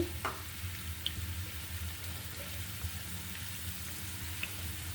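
Chopped onions fry with sliced green chilies in oil, giving a low, steady sizzle and crackle with a few small clinks of stirring, fairly quiet and continuous.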